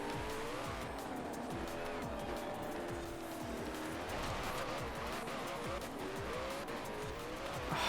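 Race car in the Forza Horizon 4 video game sliding sideways on asphalt with little grip, tires squealing over a steady engine roar that carries through the whole stretch with no pauses.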